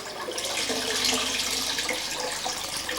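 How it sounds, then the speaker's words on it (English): A sink tap runs steadily, with a constant close hiss and splash of water filling a wash basin and no talking. "Turn your tap on"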